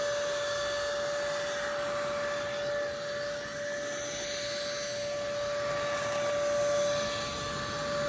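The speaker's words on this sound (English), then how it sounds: "You can keep sucking them off the nest as they land." A vacuum sucking yellowjacket wasps off a ground nest drones steadily and loudly throughout, with a constant high whine and no talk.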